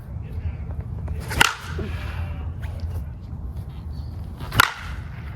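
Two sharp wooden cracks of a bat made from an alternative wood striking a baseball, one early and one near the end, each a loud isolated snap over low background rumble.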